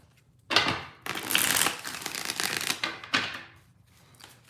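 Worn, well-used tarot cards being shuffled by hand, a few bursts of papery riffling and rustling close by with short pauses between, no talk.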